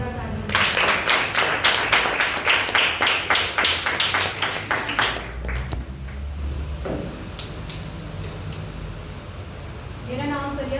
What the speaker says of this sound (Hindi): खुदावंद यीशु मसीह के लिए जोरदार तालियां।